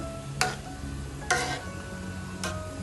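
Chhana rasgulla sweets being stirred in their syrup, with three evenly spaced spoon scrapes against the pot over a steady, low simmering bubble, close and moderately quiet, no voices.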